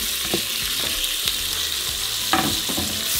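Green chile and tomato dropped into onions frying in an Instant Pot crackle in a continuous sizzle, with scattered scraping stirs and a louder clatter of ingredients near the end, no talking.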